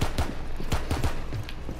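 Rapid video game gunfire, a quick burst of several sharp shots in irregular succession, close and fairly loud, with faint game ambience underneath.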